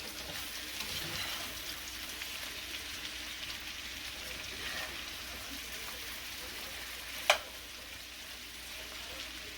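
Diced ham frying in a pan with potatoes, onions and peppers for hash, giving a steady, even sizzle throughout with one sharp utensil tap near the end.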